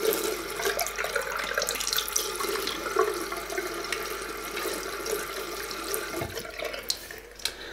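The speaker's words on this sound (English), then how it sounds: "So I'm just gonna fill up the reservoir with water." Water from a tap pours steadily into the reservoir of an Oclean W1 oral irrigator, a close, continuous splashing stream that ends with a few faint drips and clunks.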